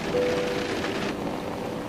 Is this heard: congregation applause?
no